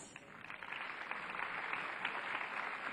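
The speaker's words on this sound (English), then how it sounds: "please applaud the line umpires" A tennis crowd applauds the line umpires, a steady broad patter of clapping that holds at moderate loudness across the stands.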